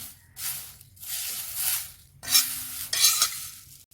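Moringa leaves dry-roasted in a pan without oil, with bursts of rustling stirring and light sizzle, plus the clink and scrape of a utensil against the metal pan; no talking.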